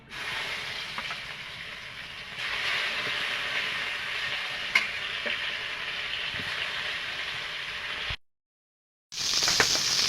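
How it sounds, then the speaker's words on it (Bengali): Fish frying in hot oil in a kadai, making a steady loud hissing sizzle close by that swells partway through, with a brief clink, then a sudden silence and a renewed burst of sizzling. "আমি বাকি মাছটা ভেজে নেব"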